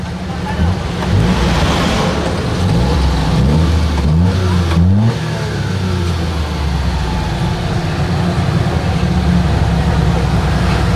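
A van engine runs steadily and loudly close by after a carburetor repair, idling with a couple of rising revs midway and faint voices underneath.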